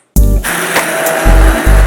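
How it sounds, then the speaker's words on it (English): Immersion blender pureeing vegan beer and cheese soup, loud whirring bursts that start abruptly, dip, then surge again twice, close and alone. "if you have an immersion blender, I highly recommend it"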